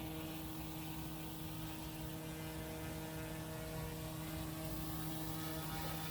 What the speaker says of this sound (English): Such a responsive heli.